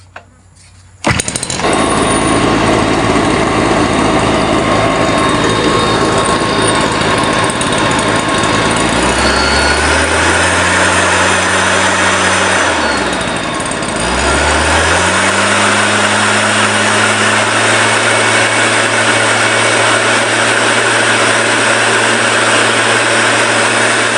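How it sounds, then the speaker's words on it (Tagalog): Stihl engine-powered sprayer starts with a sharp burst and runs loud and close at full power, its small-engine drone dipping briefly in revs before climbing back to a steady high whine. "testingin naman natin kung gaano kalakas yung buga netong steel na sprayer"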